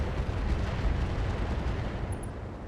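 Mech weapons opening fire in the RogueTech video game, a dense, continuous rumbling roar of blasts that stays loud and steady throughout, with no voices.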